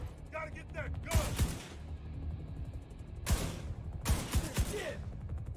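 Gunfire from the video game The Division 2: three loud bursts of shots separated by quieter stretches, with game effects and chatter underneath.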